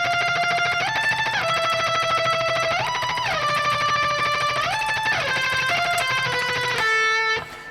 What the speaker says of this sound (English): in this next section we're doing some tremolo picking